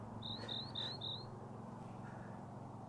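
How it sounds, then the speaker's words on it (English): A small bird near Lucky Peak Reservoir sings a quick run of four high chirps in steady rhythm. The chirps sit over a constant low outdoor hum and drone. "and there's a little bird chirping."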